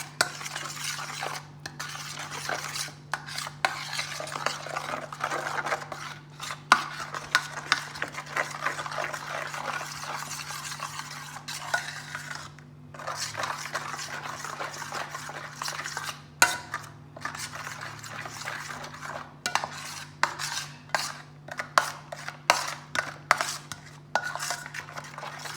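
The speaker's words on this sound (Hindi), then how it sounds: "अब हम ये सारी चीज़ों को अच्छे तरीके मिक्स करेंगे।" Spoon stirring and mixing a spiced chicken roast marinade with lemon and garam masala in a metal pot, steady scraping and clinking against the sides with a constant low hum underneath, close and moderately loud, no talking.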